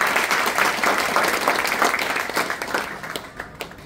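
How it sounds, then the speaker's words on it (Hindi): Loud audience applause at a business seminar in Ahmedabad, Gujarat, a dense crowd of clapping hands that holds steady and then thins out toward the end. "परेश जी के लिए जोरदार तालियां।"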